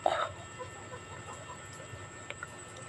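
A chicken clucks once up close at the start, followed by quieter clucks and shuffling in the background.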